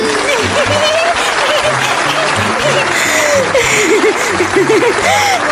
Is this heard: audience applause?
yes